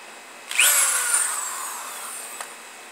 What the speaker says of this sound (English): what I just did is I took this power drill